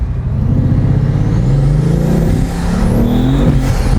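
Bugatti Veyron Grand Sport with 1250 newton meters of torque pulling hard under full acceleration, a loud continuous engine roar climbing steadily in pitch from start to finish.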